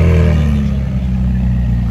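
A McLaren 675LT Spider passes on a Paris street with a loud, deep engine rumble that fills the whole moment, close and steady with no voices.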